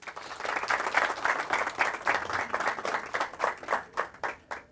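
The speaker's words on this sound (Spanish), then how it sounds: "Los recibimos con un aplauso." Audience at an open pastry class applauds steadily in a room, dense clapping holding for several seconds before thinning into scattered claps at the end, with no talk.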